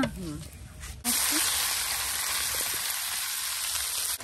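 Fish, including fish roe, cooking in a pan with pumpkin, a loud steady sizzle after a brief quieter start with a voice, continuing evenly to the end.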